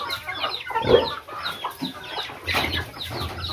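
Backyard chickens, with young chicks among them, cluck and chatter in a quick, irregular run of calls close by, with no voices over them.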